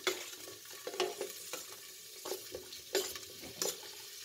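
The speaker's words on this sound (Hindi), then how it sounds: "ऑयल गर्म हो गया, उसमें हमने प्याज डाल दी है।" Onion frying in hot oil, a soft continuous sizzle with repeated scraping stir strokes at a loose, uneven rhythm, fairly close and quiet.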